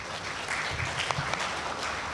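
A seminar audience applauds after a presentation, a brief steady wash of clapping hands from a small crowd.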